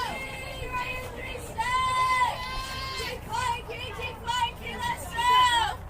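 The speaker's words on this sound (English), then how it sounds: "You hear the dugout cheering." Youth baseball dugout cheering and shouting during a full-count at-bat, a continuous crowd of voices with rising bursts of excited yells, fairly close and loud.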